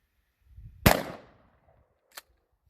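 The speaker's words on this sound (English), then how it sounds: "So now I'm going to use my shotgun, also 7 yards, aiming at the heart, same exact ammo." A shotgun loaded with buckshot fires once at a target 7 yards away, a single loud sharp blast with a quick decaying echo, followed by a faint click a moment later.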